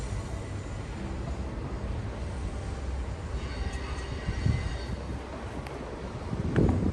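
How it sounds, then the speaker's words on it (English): A steady rumbling train rolls by in the distance along the Deerfield River, a low continuous roar with faint metallic squeals over it. "The train, can you see in the background?"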